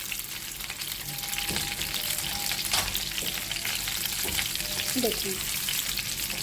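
Beef chapli kebabs fry in hot oil with a steady, close, broadband sizzle throughout, a few brief spatter pops and light utensil clinks; a voice speaks briefly.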